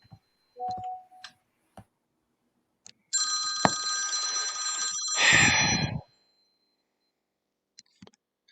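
An old-style telephone bell rings once in a sustained metallic trill, then cuts off; a few faint clicks and a short tone precede it.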